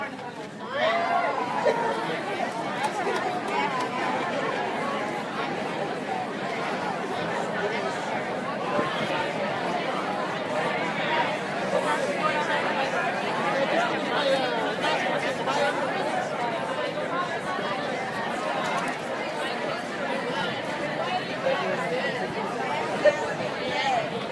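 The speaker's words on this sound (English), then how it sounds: "I want each of you to find someone you don't know in this crowd and tell them why you're marching for science" A large crowd of science marchers chats in a steady hubbub at an outdoor rally in San Diego, with many overlapping voices blending into a continuous babble that holds for the full duration.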